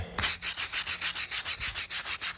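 A handheld scrubber is worked back and forth over a moldy brick walkway, giving a steady, close series of rhythmic scratchy bristle strokes, roughly six per second, with no talking.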